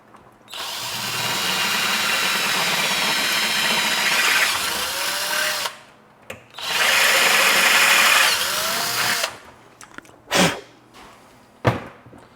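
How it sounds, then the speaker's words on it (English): Power drill whining as it bores out metal in an HP network switch during a fan replacement, two long loud drilling runs with a brief stop between them, followed by a couple of short clicks and knocks. "I'm going to have to drill that metal out just a bit wider to fit the screw in"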